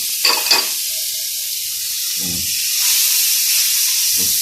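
Onions and shallots hitting hot olive oil in a pan for a barbecue sauce, a steady hissing sizzle that grows louder, punctuated by a few brief scraping stirs and clatters.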